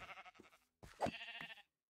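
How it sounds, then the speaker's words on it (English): Sheep bleating in Minecraft: two short, close bleats in quick succession, the second louder and more wavering, with quiet in between and after. "Sorry, sheep."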